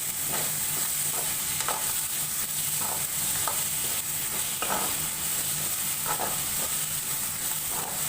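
Potatoes, cabbage and tomatoes sizzle steadily in a pan, a constant bright hiss broken by periodic scraping strokes of a spoon as the vegetables are stirred.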